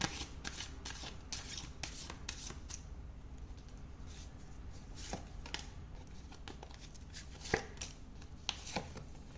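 Tarot cards shuffled by hand before a monthly zodiac reading, a steady run of close, crisp riffling bursts and soft card slaps in quiet surroundings with no talk.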